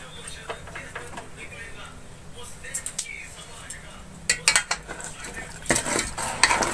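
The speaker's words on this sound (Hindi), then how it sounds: "अब इसको मैं थोड़ी देर भून लूंगी।" Boiled beef and potatoes are stirred and fried in a pot, with scattered metallic clinks of a spoon against the pot over a faint sizzle, while someone talks.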